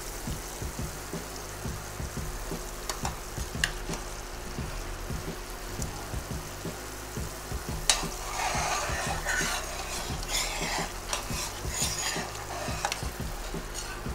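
Sugar mixture for homemade sugar glass boils in a pan on the stove, a quiet, steady bubbling sizzle with soft crackles and a few faint clinks, no voice.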